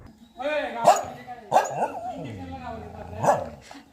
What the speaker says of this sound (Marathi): इथे जी कुत्री होती, डॉग्स होते, त्यांनी आमचं अतिशय जोरदार स्वागत केलं.